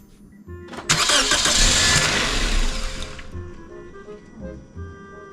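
A 2005 Toyota Corolla engine cranks and fires after an intake manifold gasket replacement, a loud roaring start that settles into a quieter idle with faint tones, heard up close.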